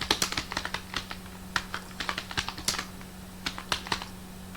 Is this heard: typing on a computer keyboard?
yes